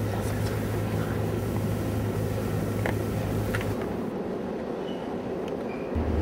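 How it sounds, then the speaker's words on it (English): A freight train rumbles through the Hoosac Tunnel, heard from inside the shaft as a loud, sustained low roar with a droning hum that thins out partway through, echoing steadily with no voices. "There's a train rumbling towards us"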